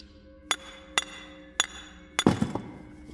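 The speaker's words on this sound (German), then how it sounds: "Wir klopfen einfach die Granatenspitze hier mit dem Hammer ab." Hammer striking a chisel against the tip of a grenade, four sharp metallic taps spaced about half a second apart, the last followed by a brief rattling clatter, close and fairly loud in a quiet room.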